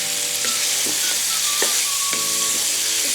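Large beef pieces being browned in a karahi for Peshawari Shinwari karahi: loud continuous sizzling close up, with several scraping stirs of a utensil against the metal pan.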